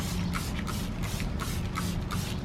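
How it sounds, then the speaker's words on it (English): Eagle One wheel and tire cleaner is sprayed onto a car wheel in a series of short, close hissing bursts, about seven in quick succession. "what we're going to do is spray each wheel and let it soak for about 30 seconds"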